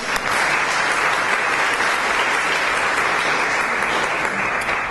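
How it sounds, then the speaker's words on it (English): A lecture audience applauds the LaGrua Center in a steady, dense wash of clapping that holds evenly for several seconds, with no voices on top. "So I think a round of applause for the LaGrua Center."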